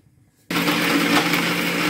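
A kitchen mixer grinds fresh coconut into paste for a banana flower curry. It starts abruptly after a short quiet moment, then holds a loud, steady, whirring drone to the end with no talking.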